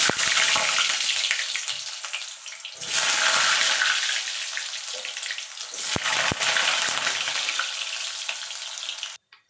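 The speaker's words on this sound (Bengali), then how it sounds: "দেখুন বন্ধুরা আলুগুলো ভেজে নেবো লাল লাল করে" Potatoes frying in hot oil, a bright steady crackling sizzle heard close up, with a few sharp stirring clicks and a brief swell partway through, and no voices.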